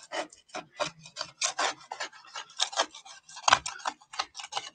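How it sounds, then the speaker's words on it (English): Paint bits are scraped off a surface in short, rapid rasping strokes, close and fairly quiet, coming in irregular bursts with brief pauses between them. "I am literally having to scrape the bits off there"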